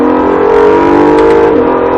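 An Acura NSX engine revs hard as the car accelerates out of a corner on a track, a loud, sustained, close-up mechanical drone with rising pitch and a brief gear change near the end.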